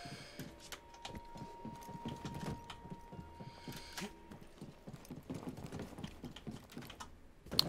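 Faint, busy computer keyboard typing with rapid irregular clicks continuing throughout, soft and close, with a low hum in the background, while playing Star Wars Jedi: Fallen Order.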